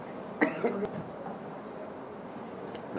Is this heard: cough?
yes